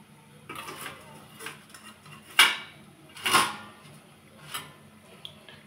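Ceramic or steel bowls of beaten egg are set down onto a perforated steamer plate in a home kitchen, giving a few separate clinks and knocks, two of them sharper and louder, spaced over several seconds with quiet between.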